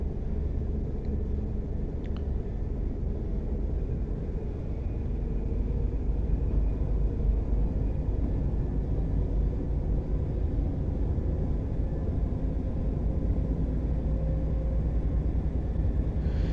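A train engine in the Train Life railway simulator game rumbles low and steady at a slow pace, a continuous drone that holds unchanged throughout with no other sounds over it.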